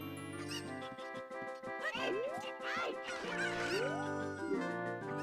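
Cuccos, the chickens of the video game Ocarina of Time, clucking and squawking several times over game music, with some rising chirps standing out.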